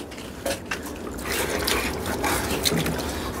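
Water is poured into a plastic basin (planggana), a splashing fill with a couple of louder sloshes early on, then a steady pour that rises slightly toward the end.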